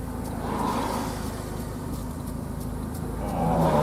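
Busy mountain road traffic heard through an open car window: a steady rush of passing cars with engine drone swelling louder near the end, no talk.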